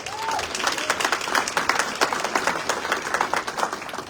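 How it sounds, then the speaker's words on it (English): An awards audience claps for a recipient at the 30 And Under Awards, a lively, fairly loud burst of many hands clapping with uneven pulses that continues throughout. "Let's give a big round of applause to Benjamin Hicks of Edward Jones"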